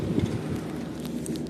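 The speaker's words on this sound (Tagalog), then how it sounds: "Basang basa na ng ulan, lakas ng ulan" Heavy rain pouring down at an electrical substation, a steady, loud broadband hiss of water with low rumbling gusts underneath, continuous throughout and free of speech.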